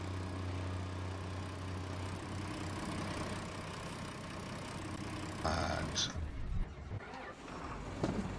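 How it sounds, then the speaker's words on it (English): A tractor engine in Farming Simulator 19 idling and running at a low, steady drone, with a few louder bumps and mechanical clunks toward the end; a voice briefly speaks over it. "Tractor coming in that wants to use that buy point."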